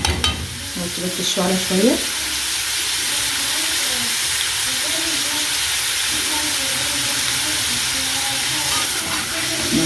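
Frozen minced beef being broken up and stirred in a hot pan, with a loud continuous sizzle, scraping stirs and a brief spoken phrase near the start.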